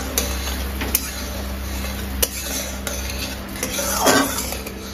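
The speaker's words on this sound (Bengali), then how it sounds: "মাঝারি মাপের ফ্লেমটা দিয়ে নাড়িয়ে নাড়িয়ে চিনির শিরাটা তৈরি করে নিতে হবে" A utensil stirring sugar syrup with cardamom in a pan over a medium flame, giving soft scraping and occasional light clinks over a low steady background noise.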